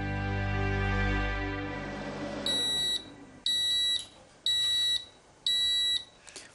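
A rice cooker finishing its cycle plays a short electronic chime and then gives four loud, evenly spaced high beeps close by, alone with no talking.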